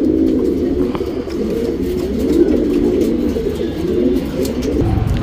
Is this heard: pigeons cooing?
yes